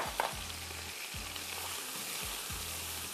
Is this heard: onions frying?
yes